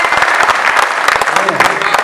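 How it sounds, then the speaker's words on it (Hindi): Loud audience applause at a Hindi comic poetry gathering, dense crisp clapping from a crowd that runs throughout while a voice speaks over it. "एक बार जोरदार तालियां बजाकर मुझे मन दीजिएगा"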